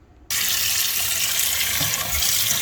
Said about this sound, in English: I'm going to rinse it in cold water.